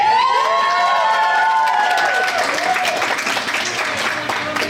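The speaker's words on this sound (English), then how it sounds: "That round of applause wasn't enough." Loud, close audience applause mixed with cheering and whoops fills a convention hall at a Sci-Fi Valley Con 2022 panel, steady clapping throughout with high shouts rising and falling over it.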